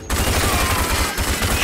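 A burst of rapid automatic gunfire in the shooter game Rage, loud and close, sustained for over a second with a brief break partway through.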